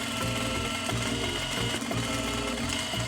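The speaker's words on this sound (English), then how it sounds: "Then we open up the seam and sew in our bone channels." A sewing machine runs steadily and close, stitching bone channels into the opened seam of a corset made from a beach towel, with a continuous whirring hum and brief pauses in rhythm.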